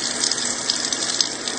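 Brown, discoloured tap water runs in a steady, hissing stream from a faucet in a home in Konawa, Oklahoma, with the flow close and continuous and no voices heard.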